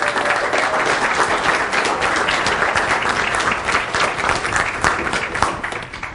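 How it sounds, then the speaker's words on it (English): An audience at a live main-event show claps loudly and steadily for several seconds to welcome a speaker onto the stage. The applause is thick and sustained and fades slightly at the end. "So let's give him a round of applause and bring him up here."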